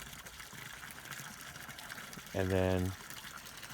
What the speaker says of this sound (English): Well, the overflow for the dam right there.